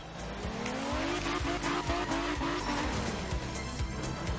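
A race car in a video game spins out, its engine revving hard while the tires squeal and skid in long wavering screeches, loud and close throughout with no talking.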